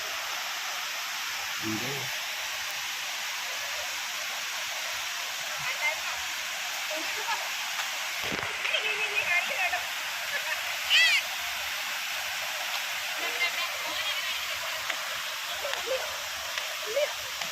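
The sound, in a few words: river water flowing at Triveni confluence waterfall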